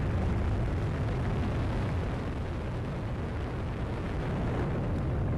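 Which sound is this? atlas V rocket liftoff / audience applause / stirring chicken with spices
atlas V rocket liftoff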